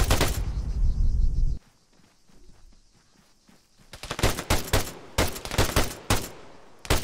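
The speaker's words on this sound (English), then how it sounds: "Just shoot them off" Bursts of automatic gunfire in the Arma 3 video game: a heavy opening volley, a quieter lull with faint shots, then a rapid string of loud, close shots.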